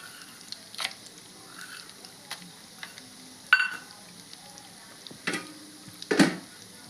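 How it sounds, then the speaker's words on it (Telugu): Tempering spices and dried red chillies frying in a little oil: a faint, low sizzle broken by a handful of sharp, scattered pops and clinks, with no one talking. "నేను ఇందులోనే పోపు దినుసులు వేస్తున్నాను."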